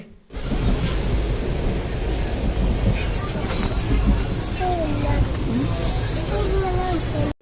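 A train rumbles along loudly and continuously, with a steady clatter and roar and faint voices mixed in.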